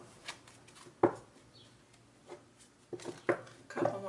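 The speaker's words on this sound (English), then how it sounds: "Couple more shuffles here." Stiff tarot cards are shuffled in a few separate bursts of riffling and snapping, close and fairly quiet, with a louder flurry near the end.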